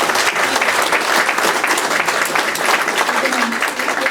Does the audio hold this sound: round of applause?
yes